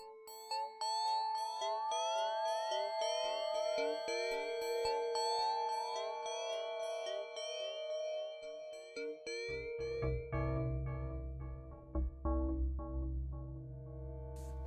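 Bell-like synthesizer preset from a Korg DW8000, with bright chiming tones and overlapping sustained harmonics ringing steadily throughout, joined by a deeper low drone in the second half.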